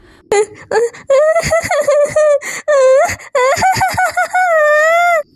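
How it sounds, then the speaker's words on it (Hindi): Loud, wavering wails of crying, long drawn-out sobbing cries broken by sharp catching breaths, close and with no other voices. "और वो रोने की आवाज किसकी है?"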